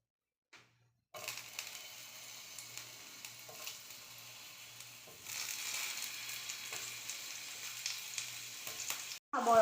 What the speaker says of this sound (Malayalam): ഇനി ഇത് ചൂടായി. ഇനി നമ്മൾ ഈ തക്കാളിക്കാണ് ഫസ്റ്റ് റോസ്റ്റ് ചെയ്യാൻ പോകുന്നത്.